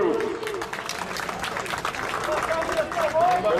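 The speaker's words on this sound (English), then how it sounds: "Can we please have one more round of applause for both groups?" A crowd applauds for both teams at a USL Academy finals soccer championship between Charlotte Independence and Orange County SC, with sustained clapping running alongside a voice talking.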